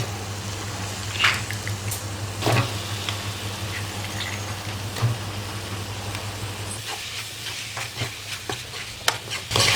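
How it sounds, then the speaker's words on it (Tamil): Eggplant sautéing in hot oil for kathirikai kootu, with onion, tomato, turmeric and chili powder, makes a steady close sizzle throughout, broken by occasional spatula scrapes and clacks against the pan. "ஒரு நிமிஷம் கத்திரிக்காய் நல்லா எண்ணெயிலெல்லாம் நல்லா வதக்கணும்."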